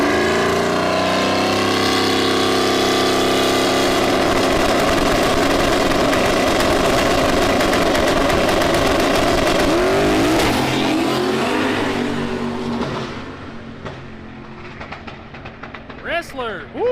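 Loud, roaring engine of the SP Tools race car at a street racing event, a sustained revving roar that passes close and then fades, leaving a quieter crowd and announcer murmur near the end.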